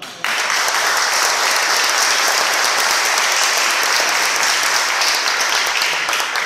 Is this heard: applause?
yes